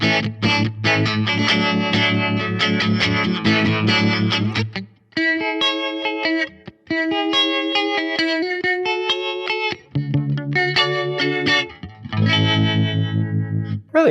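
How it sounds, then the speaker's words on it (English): An electric guitar played through a Fender Mustang Micro set to harmonic tremolo and reverb rings out in a series of sustained chords and single notes with pulsing, wavering tone, loud and close with brief gaps between phrases. "Harmonic Tremolo and reverb."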